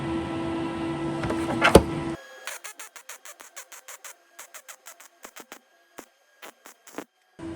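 MIG welding on an old, rusty wheel rim at low power with reduced wire feed: a dense crackling burst, then a long run of short, sharp spurts with brief gaps between them, close and fairly loud.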